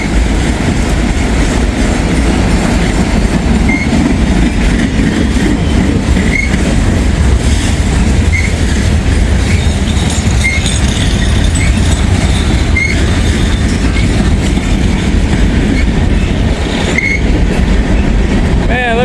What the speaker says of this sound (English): You're gonna have one locomotive pulling all this stuff.